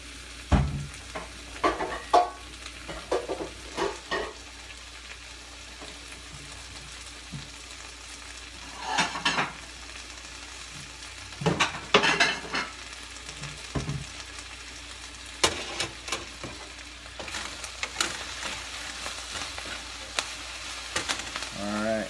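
Breakfast vegetables sautéing in a pan, a low steady sizzle under scattered sharp clinks and scrapes of a utensil against the pan, irregular bursts over about twenty seconds, close, with no clear talking.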